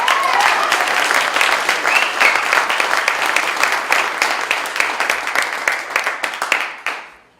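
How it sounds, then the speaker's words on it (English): A large crowd at a Trump political rally bursts into sustained applause and cheering, loud and full throughout before tapering off at the end. "Give him a round of applause."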